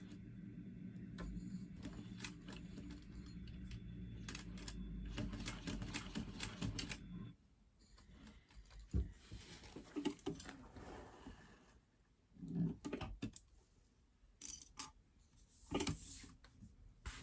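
A sewing machine stitching a tote bag, with a rapid mechanical clatter for about seven seconds that then stops, followed by scattered ticks and handling noises.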